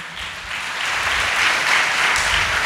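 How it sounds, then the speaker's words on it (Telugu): A church congregation at Sunday worship claps loudly and steadily, a dense wash of many hands that swells slightly as it goes on. "చప్పట్లు కొడదాం గట్టిగా"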